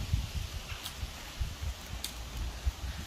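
Wind gusts outdoors with leaves rustling, a steady airy hiss over low buffeting rumbles that rise and fall throughout, with no talking.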